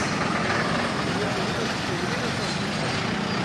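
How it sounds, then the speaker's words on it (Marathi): Dense rush-hour traffic jam in Panaji, a continuous loud roar of idling trucks, buses and car engines close by, with no pause in the din. "तो ट्रॅफिक फुल जाम झालेला असा"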